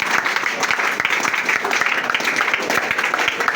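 A congregation applauds during a worship service, with dense, steady clapping from many hands filling the room and a voice faintly audible beneath the sustained applause.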